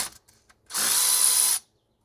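Power tool spinning a socket to remove bolts on a 1968 Ford Thunderbird with a Thunderjet 429 engine: one close, loud, steady whir of about a second, heard alone after a few faint clicks.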